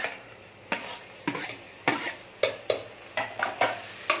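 Onions sautéing in ghee for mutton biryani, Dindigul Thalappakatti style, stirred in repeated scraping strokes that land about every half second over a steady close sizzle, with no talk.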